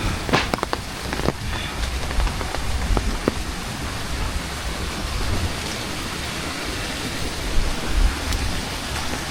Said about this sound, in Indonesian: Ya sedikit mulai reda ya untuk hujannya tuh